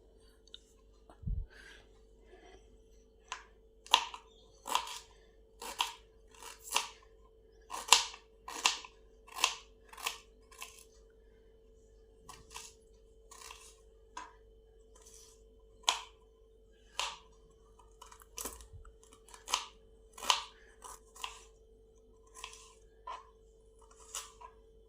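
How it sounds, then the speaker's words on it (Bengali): A knife chops ginger into small pieces on a board: roughly twenty crisp, sharp taps at an uneven, unhurried pace, close and clear over a faint steady background hum. "এবার আদাটাকে ছোট ছোট টুকরো করে নেব যাতে মিক্সিতে ভালোভাবে পেস্ট হয়।"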